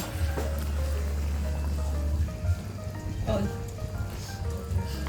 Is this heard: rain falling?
yes